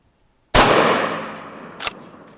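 A Benelli SuperNova 12 gauge shotgun fires a single loud, close shot of number 4 buckshot, with a sharp crack followed by a long decaying echo and a brief metallic clang near the end.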